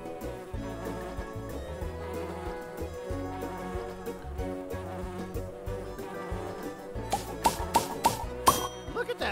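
A bumblebee buzzes in the Pollinator Pathway children's video game, a steady hum running under cheerful background music with a few bright chime accents near the end.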